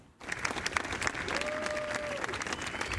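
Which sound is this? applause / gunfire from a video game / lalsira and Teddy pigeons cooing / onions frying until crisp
applause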